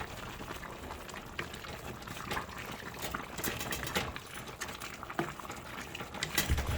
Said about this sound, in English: as the neck bones is cooking, the greens is cooking and absorbing that flavor from that smoked neck bone